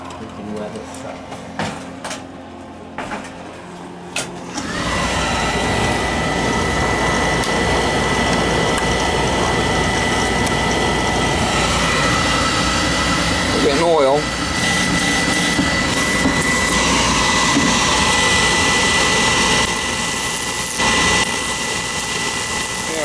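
Oil burner igniting after its electrodes were adjusted and a new nozzle fitted: after a few quiet clicks and shuffles, a sudden loud, steady roaring rush of the flame holds for the rest of the time, with voices talking over it.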